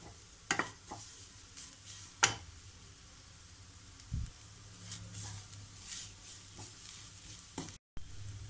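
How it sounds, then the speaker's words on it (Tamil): Food roasts and fries in ghee in a pan, with a few sharp scraping stirs and taps over a low steady crackle; no one speaks. "அதுக்காக தான் நம்ம இதில் நெய்யில் கொஞ்சம் வறுக்கிறோம்."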